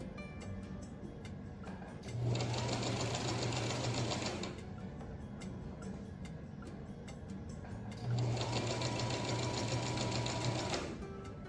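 A sewing machine stitching a continuous placket whirs steadily in two bursts of about two to three seconds each, close and clear, separated by a quieter pause with faint handling noise.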